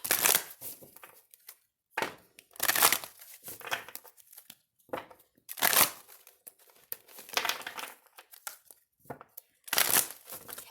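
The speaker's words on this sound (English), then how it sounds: "And then we're going to give it some shuffles to also cleanse the energy." Tarot cards are shuffled in repeated bursts of riffling and crinkling, each lasting under a second with short quiet gaps between them, close up and with no talk.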